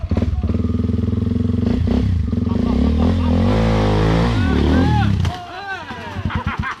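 Motorcycle engine revving hard on a trail near a waterfall, a loud continuous throaty roar with pitch swings as the throttle opens and closes, dropping away near the end while voices talk over it.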